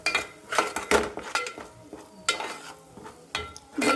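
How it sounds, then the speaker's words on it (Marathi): Malvani masala for a fish curry being stirred and fried in a pan, with repeated metal spoon scrapes and clinks against the pan over a faint sizzle, close up. "मसाला चांगला परतून घेऊया।"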